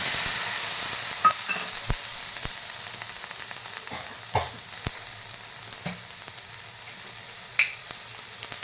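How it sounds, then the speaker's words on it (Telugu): Tomatoes sizzle and fry in a pan for peanut chutney, a steady hiss broken by sharp clicks and scrapes of a spoon stirring, with no talk. "ఇప్పుడు టమాటా వేసి మగ్గించుకోవాలి"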